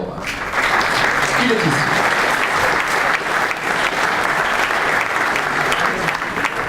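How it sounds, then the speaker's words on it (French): An indoor audience at a regional medal ceremony in Montpellier claps steadily throughout, a dense sustained round of applause while a presenter briefly speaks over it at the start. "Je vais vous demander bien sûr à chaque fois beaucoup d'applaudissements et d'encouragement."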